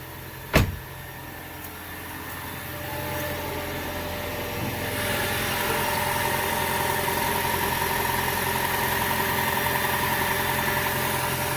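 A Lincoln car engine idles loudly with its intake left unhooked from the airbox, giving a steady, close drone. A sharp thump comes near the start, and the engine note grows a little louder partway through.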